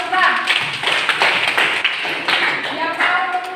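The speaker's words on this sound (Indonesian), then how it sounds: "Oke, beri tepuk tangan untuk Aura." Classroom applause for a student named Aura during a physics lesson, a burst of hand claps from a group of pupils lasting throughout, with voices talking over it.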